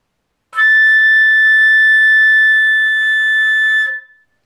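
Flute sustaining a high A in the third octave, a bright, loud, steady tone held for about three and a half seconds before stopping, played alone.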